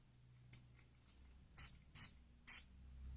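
A few short, sharp hissing sprays from an Armaf Skin Couture Metallica perfume atomizer, with fainter tentative puffs first and then three clear bursts close by, each about a fraction of a second long, in a quiet room.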